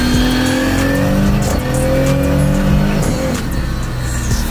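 A 2000 hp Nissan Patrol with a sequential gearbox revs hard, its engine pitch climbing and dropping as gears are slammed in without the clutch, loud and close.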